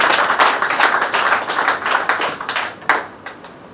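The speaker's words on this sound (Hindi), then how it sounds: "बहुत बड़ी ताली बजाओ उनके लिए" Audience applause at a public speech event honoring the Dehradun president, loud continuous clapping from many hands that thins out into a few scattered claps near the end.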